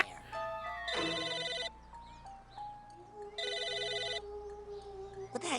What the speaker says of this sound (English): It's a phone ringing, Raz.